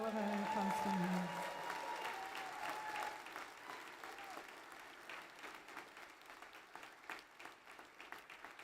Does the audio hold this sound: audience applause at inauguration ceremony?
yes